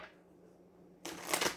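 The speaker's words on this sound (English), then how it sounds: "One more shuffle" A deck of tarot cards is riffled in one quick, crisp burst that follows a stretch of near silence, close up and fairly quiet overall.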